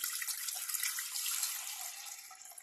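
Milk pours into a kadai in a thin, steady splashing stream, soft and continuous throughout with a faint liquid hiss.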